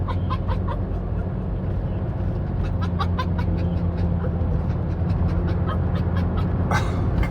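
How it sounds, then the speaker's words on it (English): Dog panting close by outdoors on a Hollywood hiking trail, rapid rhythmic breaths with occasional faint whimpers, continuous over low traffic rumble. "Sticker, you sound like you're laughing."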